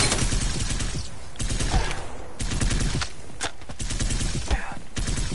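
Gunfire in Apex Legends, loud rapid bursts of shots and mechanical clatter running almost nonstop, with a voice talking over the action.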